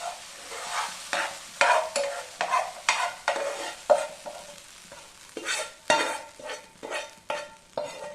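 A utensil scrapes and stirs gongura (sorrel leaf) relish in a pan in repeated strokes, with a faint sizzle underneath, close by and with no voices.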